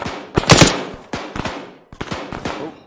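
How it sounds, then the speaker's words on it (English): Bursts of automatic gunfire from inside a building in the ArmA 3 video game, three loud clustered volleys of rapid shots with short gaps between them, close and sharp with no talk. "Sounds like that firing's coming from inside."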